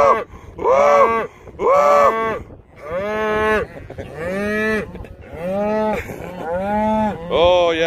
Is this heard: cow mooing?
yes